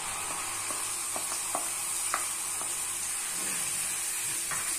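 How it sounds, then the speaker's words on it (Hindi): Onion, ginger and garlic paste frying over a low flame in a pan for Punjabi Pindi chole, giving a steady close sizzle and hiss with occasional stirring scrapes; no voices. "हमें प्याज अदरक लहसुन के पेस्ट को अच्छे तरीके से भूनना है"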